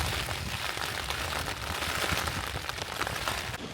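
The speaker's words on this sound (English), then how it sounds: "It's raining constantly, the wind is blowing" Rain and wind lash a tent pitched on a mountain summit while camping in the Lake District fells, a dense, steady wash of loud drumming and gusting noise that never lets up.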